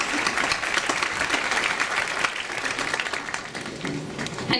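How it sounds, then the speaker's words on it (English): Commencement audience at the 2018 Elwood John H. Glenn graduation gives a long, steady round of applause, dense crowd clapping filling the venue throughout. "Please join me in a round of applause for all who have worked with and for the students of the class of"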